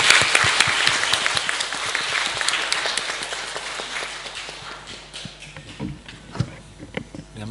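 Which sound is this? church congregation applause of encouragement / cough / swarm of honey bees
church congregation applause of encouragement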